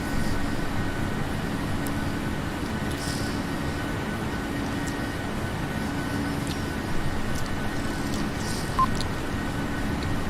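Steady broadband roar of an airliner cockpit in flight between Houston and Calgary, a constant low rumble and airflow hiss filling the space evenly with no voices, only faint brief clicks above it.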